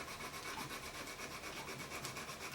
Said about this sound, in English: At this point I'm working on the tips of the reed now with a finer 240 grit sandpaper.